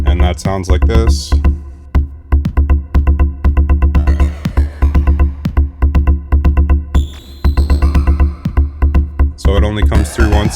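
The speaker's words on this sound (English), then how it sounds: "which is being ring modulated with an oscillator" Rhythmic electronic pings from a Behringer 914 filter bank, metallic and ring-modulated with an oscillator, pulsing steadily over a deep repeating bass tone with bursts of brighter noise.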